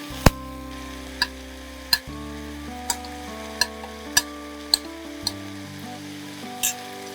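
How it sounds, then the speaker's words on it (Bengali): A spoon stirs Armenian-style khichuri with fried cashews and almonds in a pot, sharp knocks and scrapes landing roughly every second over a quiet cooking hum, with no talking. "এবার আমরা কিন্তু কাজু আমন্ড এই ভাজাগুলো দিয়ে দিতে পারি"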